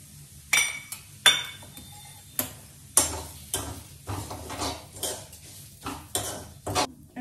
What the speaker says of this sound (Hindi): तो इसमें मैं सूजी डाल रही हूँ।